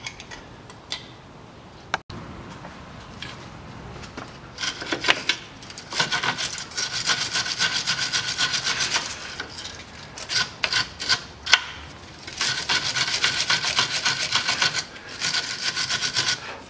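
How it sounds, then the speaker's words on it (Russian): Wrench work loosens bolts on the rear strut of a 2008 Audi Q7 3.0 diesel, giving irregular ratcheting clicks and scraping metal rubs in bursts, close and moderately loud with no talking. "открутить болты"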